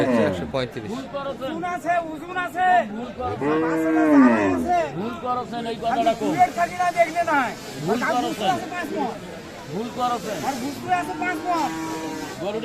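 At the Aftabganj cattle market in Dinajpur, where Friesian cows with calves are sold, a cow moos several times amid loud haggling and crowd chatter close by.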